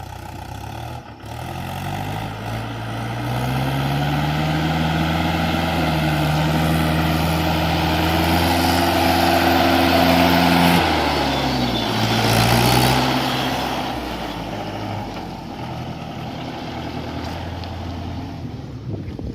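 A tractor hauls a trolley along a muddy, rain-soaked village road, its close, continuous engine drone holding steady while the pitch rises and falls as it labours through the mud.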